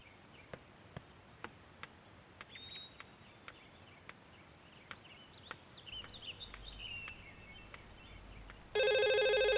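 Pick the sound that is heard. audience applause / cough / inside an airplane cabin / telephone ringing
telephone ringing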